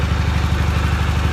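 The repowered engine of a Cub Cadet 782 lawn tractor runs at a steady idle, with a loud, close, low throbbing rumble and fast, even pulsing exhaust beats throughout.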